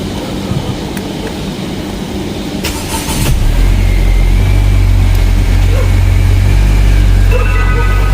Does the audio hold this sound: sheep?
no